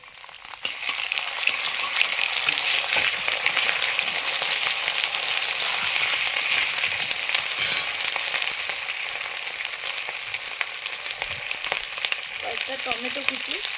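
Ginger paste sizzles in hot mustard oil alongside fried potatoes in a pan, a loud continuous close-up frying hiss with faint scraping near the end.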